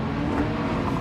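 Toyota Supra engine in the racing game Gran Turismo 7, a loud, close, sustained high-revving drone under acceleration with no talk over it.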